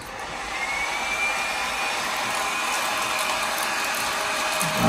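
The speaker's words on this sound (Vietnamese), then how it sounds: "Đây mình sẽ sử dụng bằng cái máy khò chuyên dụng này nha các bạn, nó sẽ nhanh hơn cái máy sấy tóc." A hot air heat gun blows steadily while shrinking plastic wrap around a gift basket: a continuous close, loud airy roar with a faint motor whine, slightly rising toward the end.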